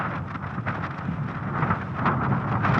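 Gusty wind blowing across a mountain peak at a wild campsite during a hail and thunder storm, a constant rushing roar buffeting the microphone and swelling in uneven surges.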